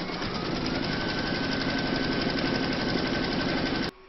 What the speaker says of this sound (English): Pop your hoop into your machine and stitch round number 2 to secure them.